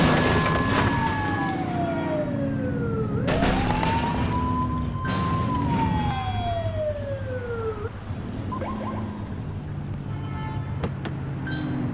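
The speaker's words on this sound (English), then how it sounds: "Get behind them and flip the siren to make them pull over." Loud police car siren in The Precinct video game, wailing tones sweeping up and down repeatedly over a steady engine rumble, with a few sharp bursts between cycles.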